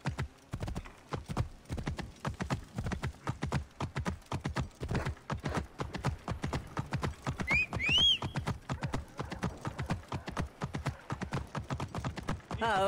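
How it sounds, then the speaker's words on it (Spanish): Hooves of a horse gallop in a fast, steady clip-clop rhythm through the whole stretch in Assassin's Creed Origins, with a brief high whinny-like call midway and no talk over it. "Necesito un caballo."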